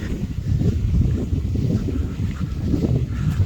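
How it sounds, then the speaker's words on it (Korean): Steady wind blows across a golf course at Jeju's Laon CC, a loud, low rushing roar with microphone buffeting that holds constant throughout, with no talking. "아 이제 바람 좀 부네"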